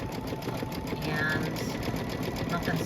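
An embroidery machine stitching out lettering on a Kimberbell pillow panel, a rapid steady mechanical chatter of needle strokes running continuously at close range.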